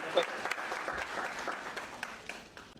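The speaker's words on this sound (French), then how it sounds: "le monsieur mérite vraiment des tonnerres d'acclamation" An audience at a speaking contest final bursts into short, lively applause, a dense wash of clapping with a few distinct claps, mixed with voices and fading toward the end.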